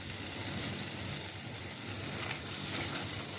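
Ghee sizzles steadily in a pan of prawn and pointed gourd curry with turmeric and chilli powder, a close, continuous hiss and crackle with no voices.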